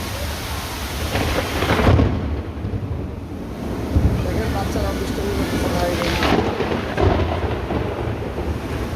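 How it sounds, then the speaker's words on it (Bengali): Heavy monsoon rain pours down outside a balcony above a street junction, a loud, dense roar with rumbles of thunder, while someone talks over it. "প্রচুর বৃষ্টি হচ্ছে, প্রচণ্ড বৃষ্টি।"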